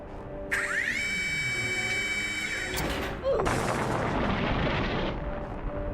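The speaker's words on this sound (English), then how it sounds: "use a heavy surface to air battery to shoot him out of the sky" A heavy surface-to-air battery fires in a video game, a rising whine giving way to a loud, sustained roaring blast that rumbles on for seconds.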